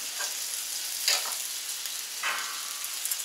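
Bacon fat and canola oil sizzle on a Camp Chef FTG600 flat top griddle, a steady hiss with a few brighter bursts of spatter as things hit the hot surface; no talking.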